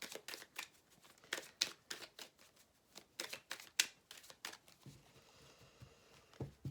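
Predictive cards being shuffled by hand, a soft, close series of papery riffles and flicks in quick irregular bursts, with a brief crinkle toward the end.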